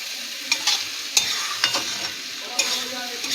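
Kalmi greens frying in a pan, a soft steady sizzle broken by several short scraping stirs of a spatula, close and alone with no voices.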